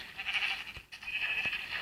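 Two Minecraft sheep bleats, one drawn-out and one shorter after a brief pause, close and clear, no talking.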